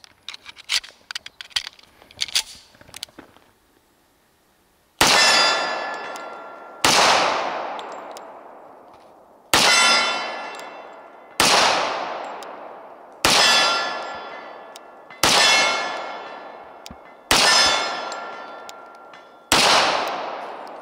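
A Tisas SSR .45 pistol fires shot after shot, each crack followed by the long ring of struck steel targets, about eight evenly spaced hits at roughly two-second intervals, loud and close, after some brief scattered clanks.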